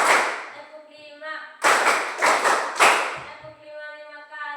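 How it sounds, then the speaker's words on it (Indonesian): A group claps hands together in three quick, loud bursts of applause-like clapping, each breaking off sharply, with speaking voices heard before and after. "tepuk 5 kali."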